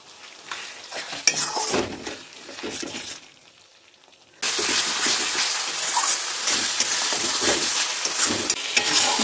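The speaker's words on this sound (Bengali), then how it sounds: "ভালোভাবে মশলাটাকে কষিয়ে নিতে হবে।" Spice masala being stirred and fried in a pan for a dhaba-style mutton curry, with a spatula scraping and sizzling, a brief quiet lull midway, then loud continuous frying and clinking.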